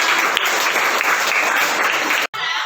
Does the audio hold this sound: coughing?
no